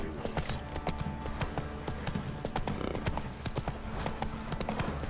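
Horse hooves clip-clop at a steady trot in the video game The Witcher 3: Wild Hunt, close, loud and continuous over a dense ambient game background.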